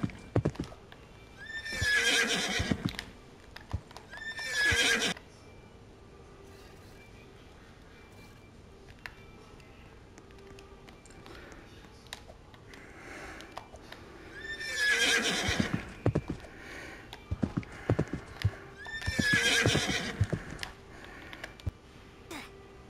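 A horse in Roblox whinnies several times in loud bursts with clip-clopping hooves, separated by quiet stretches.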